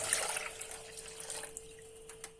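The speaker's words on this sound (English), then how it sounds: "place a pot on the stove on medium heat and add in water" Water trickles and splashes steadily into a pot on a stove, fairly quiet, with a faint steady hum underneath and a few small clinks.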